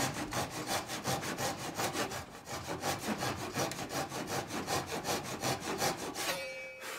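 Steady back-and-forth strokes of a hand saw cut through a wooden door, close and rhythmic at about two strokes per second, continuing without pause before stopping near the end.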